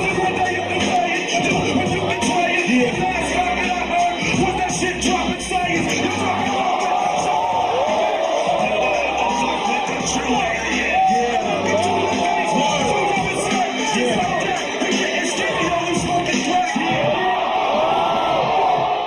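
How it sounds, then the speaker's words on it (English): A crowd at a freestyle rap battle screams, whoops and shouts continuously, a dense roar of voices with yelling rising over it throughout. "people are screaming in the crowd"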